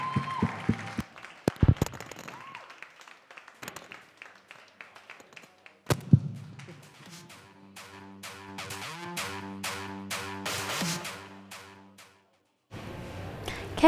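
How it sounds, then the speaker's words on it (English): Scattered clapping at a student union election results show, starting sparse, swelling into rhythmic applause mid-clip, then a brief silence before clapping resumes. "if I could ask everyone, a big cheer for Caroline."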